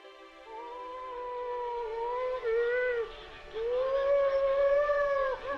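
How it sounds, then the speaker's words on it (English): A wolf howls in long, wavering, siren-like tones, rising and falling in pitch with a short break midway, clear and fairly close against a quiet background. "Many times they would encourage the wolf to howl."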